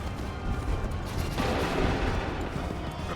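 A musket volley rings out in Assassin's Creed 3 Remastered, a dense crackling burst of gunfire swelling midway and rolling on as a sustained fusillade, loud and close with no talk over it.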